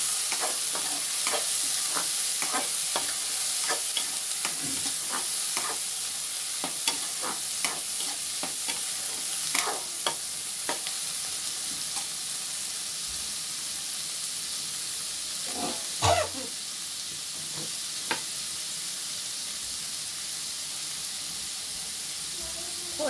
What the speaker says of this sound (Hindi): मैं कटा हुआ टमाटर डाल रही हूँ।